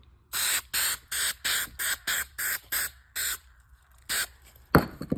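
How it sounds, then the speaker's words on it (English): A series of about nine short, sharp bursts of spray adhesive in a steady rhythm, close and loud, with a brief pause before the last few hisses. "So I don't go crazy with the spray."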